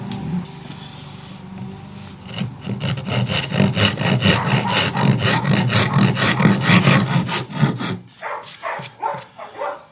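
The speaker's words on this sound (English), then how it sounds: "I'll get my most aggressive rasp first of all." An aggressive wood rasp files a guitar body in fast repeated back-and-forth scraping strokes, loud and close, ending in a few separate slower strokes; dogs bark faintly in the background.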